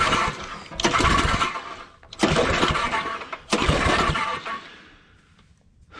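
Roto-Hoe tiller engine cranked at full throttle and full choke: three loud, raspy pull-start bursts of a couple of seconds each, separated by short pauses, the last one fading out without the engine catching.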